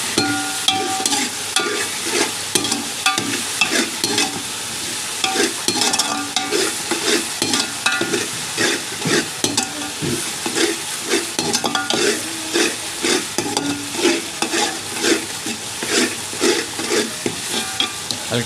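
Whole spices (bay leaves, star anise and cinnamon) sizzle steadily in hot oil in a pot for beef yakhni pulao, while a spoon scrapes and stirs them in a regular rhythm.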